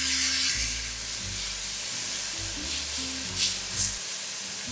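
Pork steaks sizzling on a grill, a steady hiss of frying fat with a low humming fan or burner underneath, a couple of brief louder flare-ups of spattering near the end.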